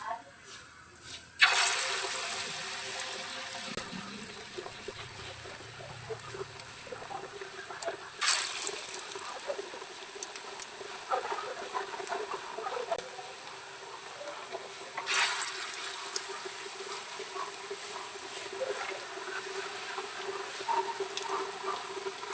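Jackfruit snacks are dropped one at a time into hot coconut oil and fry with a sharp bubbling sizzle. The sizzle surges three times as pieces go in and keeps hissing steadily between drops.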